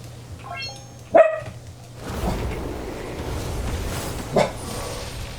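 A dog barks, with one sharp, loud bark near the start and a fainter second bark later, over quiet background rustle and no talking.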